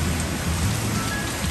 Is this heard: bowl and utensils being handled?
no